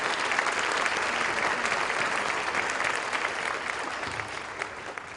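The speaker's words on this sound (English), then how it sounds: "deserves a huge round of applause for her work in families" An audience at the Summit of Hope 2014 gives a long round of applause, a steady, dense crackle of many clapping hands that holds for several seconds before easing slightly toward the end.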